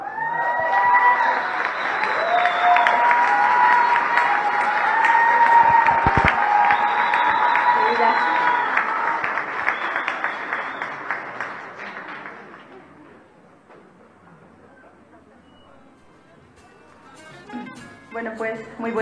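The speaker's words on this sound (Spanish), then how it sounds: "Voy a pedir un fuerte aplauso para Reina Mamani" A museum audience at an exhibition opening of Bolivian women artists applauds an urban artist, loud sustained clapping with some cheers for about twelve seconds before fading out, then a voice begins speaking.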